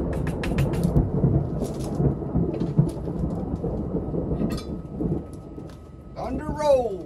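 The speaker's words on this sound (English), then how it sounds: "Thunder rolls." Rolling thunder outdoors during cooking at a rocket stove oven, a deep, loud, drawn-out rumble with a brief clatter and some rain, ending in a short scraping clank, with no speech.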